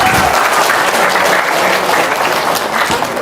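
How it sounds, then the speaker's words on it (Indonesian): Audience applause fills a room, steady dense clapping from a crowd throughout, loud and continuous with no talk over it. "Tepuk tangan dong."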